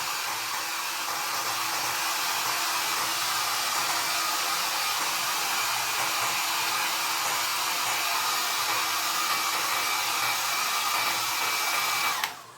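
A hair dryer blows steadily on a watercolor painting, a loud constant whooshing hum with a faint tonal whine, running unbroken for about twelve seconds before cutting off at the end.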